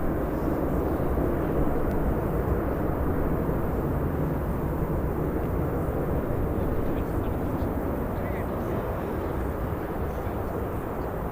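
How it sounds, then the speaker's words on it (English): A Ryanair airliner rolls out after a firm landing at Birmingham airport, a loud continuous roar of engine and rushing noise that holds steady throughout. "Another firm landing by Ryanair."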